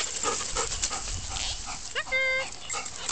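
A pet dog barks and whimpers in a few short bursts while swimming, with water splashing around it and a person talking encouragingly throughout.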